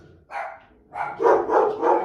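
Pet dogs bark indoors in a close, loud burst: one bark, a brief pause, then three or four quick barks in a row, with no talking.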